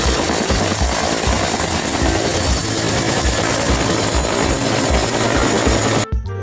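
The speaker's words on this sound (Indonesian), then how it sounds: "Ini adalah helikopter red color. Helikopter untuk mengangkut penumpang ya guys." Red toy passenger helicopter giving off a loud, steady whirring rotor drone with a high electronic whine, continuous and close, cutting off abruptly at the end.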